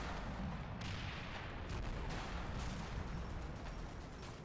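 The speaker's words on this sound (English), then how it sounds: "Oh, that's a nice barrage." Artillery barrage in the Cold War wargame Combat Mission: Cold War, a steady roar of overlapping booms and crackling detonations, dense and continuous without clear gaps, fairly loud throughout.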